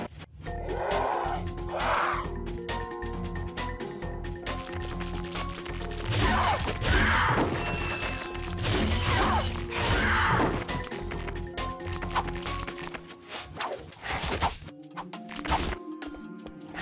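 Omni Wrench strikes on scorpions in the Ratchet and Clank game land as repeated metallic whacks and crashes among clanking game noise, arriving in bursts of several hits and then thinning out toward the end.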